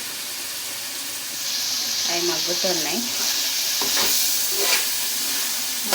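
Vegetables cooking in oil for a meal maker pulao release a soft, steady steam hiss and sizzle from the pan once its lid comes off. A person speaks briefly over the sound, and a few light stirring knocks follow.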